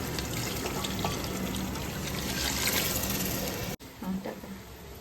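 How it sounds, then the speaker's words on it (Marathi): Heated water poured into a pan of chicken masala being sautéed for a Sunday chicken paneer curry, a steady hissing trickle and sizzle running nearly five seconds, close and continuous, with a brief break near the end. "आणि त्यामध्ये टाकू आता आपण गरम केलेले पाणी"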